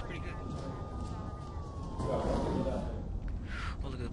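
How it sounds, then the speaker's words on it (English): A police car siren in the city-building game Sim City 4, a faint wailing tone sliding down in pitch beneath a continuous game soundscape, with a voice talking over it. "Oh, look at the police car."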